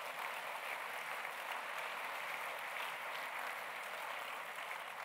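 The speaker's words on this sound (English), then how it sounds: "Haven't got time for clapping" Audience applause at a lecture and prize-giving, a steady wash of clapping from a crowd, fairly faint and distant, with no talk over it.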